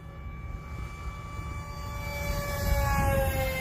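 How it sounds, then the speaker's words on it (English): Hobbyzone Aeroscout S 1.1m RC airplane making a full-throttle high-speed pass, a steady electric motor whine with a rising pitch that swells louder as it approaches, heard alone outdoors. "we'll go full throttle for a high-speed pass."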